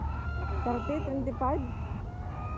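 Chickens cluck and squawk at a busy Saudi market, loud close calls in a quick series rising over a steady crowd murmur, as people talk nearby.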